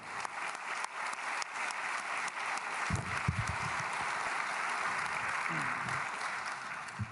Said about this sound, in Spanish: De pie el aplauso del Parlamento de Israel, de la Knesset, al presidente argentino Javier Milei.